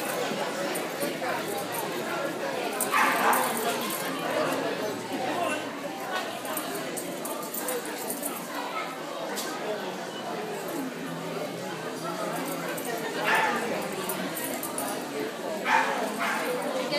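Terrier puppies, a Norwich terrier and West Highland terriers, yip and bark intermittently while playing, with bursts of barking scattered through a steady, busy background and people talking nearby.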